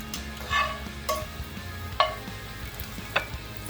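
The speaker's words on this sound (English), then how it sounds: "Quick toss to get that raw garlic flavor." Raw garlic is tossed in a hot oiled pan, giving a steady close sizzle broken by three or four sharp metallic clatters as the pan moves.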